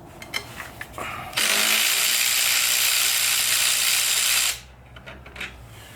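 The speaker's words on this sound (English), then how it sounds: "We're going to grab our 12 millimeter socket here. Break this loose." A ratchet with a 12 mm socket works a bolt loose on a 1983 Honda Goldwing, giving one harsh, continuous mechanical burst of about three seconds. Quieter clicks and handling noises come before and after it.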